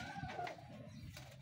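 White pigeons give soft, low cooing calls, a few brief murmured phrases close by but faint, with no talk over them.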